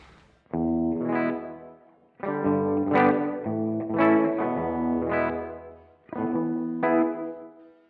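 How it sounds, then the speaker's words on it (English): Electric guitar chords ringing out through the reverb of a Blackstar Dept. 10 Amped 1 pedal turned all the way up, each strum swelling and trailing off into a long, washy tail between phrases. "I will show you the reverb control, so I'll crank it up all the way."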